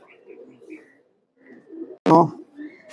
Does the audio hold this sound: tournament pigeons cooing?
yes